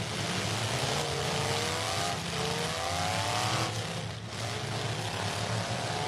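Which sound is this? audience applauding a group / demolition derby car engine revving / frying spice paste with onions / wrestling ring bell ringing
demolition derby car engine revving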